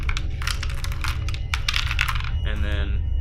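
Small rune stones shuffled around inside a wooden box, giving a rapid, irregular clatter of hard clicks and knocks, close up, with a softer rattling patch near the end.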